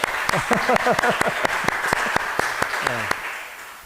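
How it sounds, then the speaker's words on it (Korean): A congregation at a military unit's church service breaks into applause, a dense run of sharp claps that carries on for several seconds and slowly thins out, with a voice talking over it. "좋으시면 박수?"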